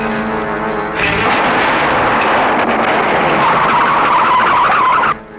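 Car losing balance and skidding, a long harsh tyre screech lasting several seconds over engine roar, loud and close, ending abruptly.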